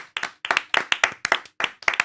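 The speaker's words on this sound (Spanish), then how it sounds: "Un aplauso." A live audience claps in quick rhythmic bursts, sharp hand claps grouped into a steady beat across two seconds, close and fairly loud with no talking.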